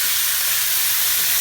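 Vegetables for chicken and noodles frying and being stirred in a pot, giving a steady, loud, close sizzle that does not let up, with no voices.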